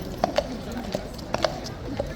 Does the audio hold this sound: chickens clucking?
no